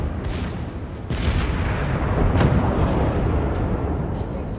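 Amagi battleship secondary guns firing in World of Warships during a naval battle, a handful of loud booming shots spaced irregularly over a constant rumbling background.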